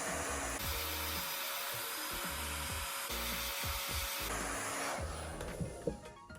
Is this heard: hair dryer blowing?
yes